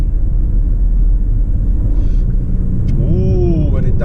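A 2019 Lexus LS500 in sports mode downshifts. A constant low road and engine rumble fills the cabin, then a short rising whine swells near the end, under a voice.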